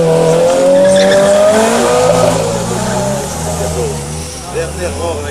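A Peugeot 206 race car leaves the start of the 2015 La Roche-La Berra hillclimb, its engine revving hard and climbing through the gears. The sound is loud and close at first, then eases as the car pulls away, with a voice over it.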